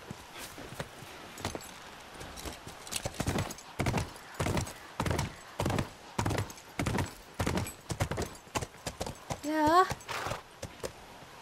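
Horse hooves clip-clop in the video game The Last of Us Remastered, a steady series of loud, close hollow knocks at a walking pace, with a brief whinny near the end.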